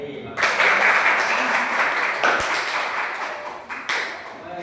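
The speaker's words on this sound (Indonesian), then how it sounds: "bisa tepuk tangan buat kita sendiri." A classroom group claps for themselves, a dense burst of applause that starts abruptly, holds steady for several seconds and tapers slightly, with a faint voice underneath.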